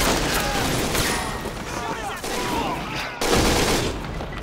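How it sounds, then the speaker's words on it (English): Rapid volleys of rifle and machine-gun fire from German troops in the Men of War World War II strategy game, dense overlapping bursts at moderate loudness with a voice speaking over them. "Germans returning fire."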